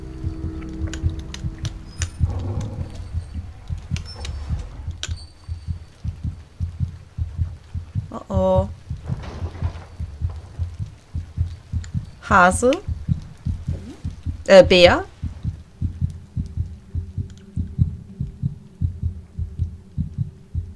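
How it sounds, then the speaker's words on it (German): Steady rhythmic heartbeat thumping through a dark scene in the horror video game Among the Sleep, a low pulse running throughout beneath a man's speech and brief sharp cries. "Ist das mein Herzschlag?"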